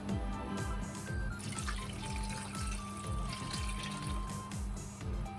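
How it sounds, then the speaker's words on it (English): Water pours steadily into a pot of vegetables for blended vegetable soup, a continuous splashing rush with faint tonal hums and clinks in the background. "I'm going to pour in the water as well"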